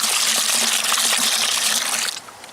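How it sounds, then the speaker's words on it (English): Liquid concrete bonding agent gushes steadily into a bucket with a loud, continuous pour that cuts off near the end. "I'm going to add a lot of glue to this bucket."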